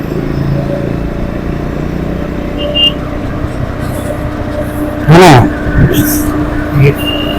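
Triumph Scrambler 400X motorcycle engine humming steadily while riding in traffic, with a sharp rising rev burst partway through and wind noise over the ride.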